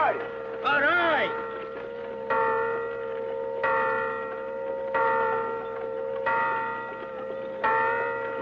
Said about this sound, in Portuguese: o sino dizendo pão, pão, pão, pão